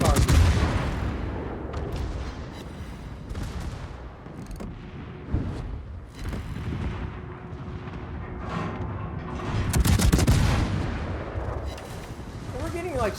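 Heavy naval gunfire from the cruiser Hipper in a warship battle game, booming salvos at intervals with a big blast near the end, under someone talking throughout.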